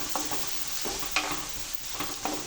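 Onion paste with turmeric powder, alongside ginger, garlic and curry leaves, being sautéed in a pan for a horse gram curry, a close steady sizzle with repeated scraping stirs and light spoon taps, no talking.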